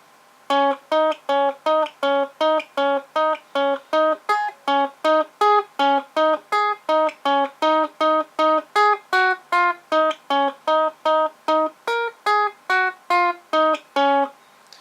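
Guitar playing a phrase from a song, a slow run of evenly spaced single plucked notes, clear and close, each ringing briefly before the next, with no talk.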